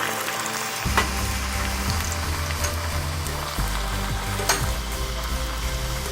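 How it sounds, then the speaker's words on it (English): Continuous crackling sizzle of rajgira puri deep frying in medium-hot oil, loud and close, with a low steady hum beneath. "Oil should be medium hot while you are frying the puri."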